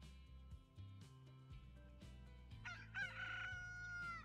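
A rooster in Transport Fever 2 crows once, a quiet rising-then-held call midway through, over soft steady tones from a Bavarian map scene.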